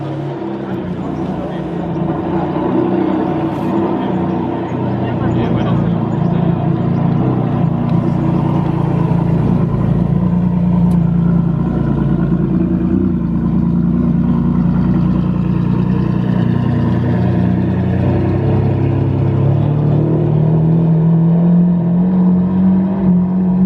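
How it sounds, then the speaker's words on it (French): Maserati MC12 hypercar pulling out of a parking lot, its engine a deep steady drone that rises in pitch toward the end as it moves off, with crowd murmur in the background. "première voiture qui sort du parking, c'est la MC12"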